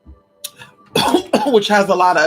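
A single short cough bursts out mid-conversation, a brief sharp exhalation in a quiet indoor setting, followed at once by a person talking.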